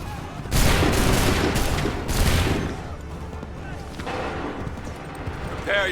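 Musket volleys from soldiers in Assassin's Creed III ring out as loud, dense bursts of gunfire, with several crackling salvos in the first seconds and fainter shots after, under shouted commands.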